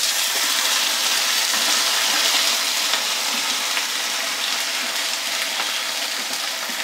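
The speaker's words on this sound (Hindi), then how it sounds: "अब मैं इनको भून रही हूँ।" Whole spices and peas frying in a pan for a simple rice pulao, giving a steady, close, fairly loud sizzle with a continuous hiss and crackle throughout, no voices.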